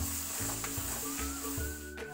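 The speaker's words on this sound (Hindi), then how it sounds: "2 चम्मच धनिया पाउडर, 2 सबको हिला लेंगे, भून लेंगे अच्छे तरीके से।" Coriander powder and masala stir-fried in a pan for Uttarakhand-style handi chicken, giving a steady close sizzle with periodic scraping strokes of stirring, no talk.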